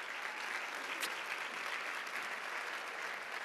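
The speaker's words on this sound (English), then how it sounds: "Please, a big applause for Dolores." Sustained audience applause for labor activist Dolores Huerta at a Hispanic leadership summit, a steady wash of clapping from a large crowd with no break, heard from a distance across the hall.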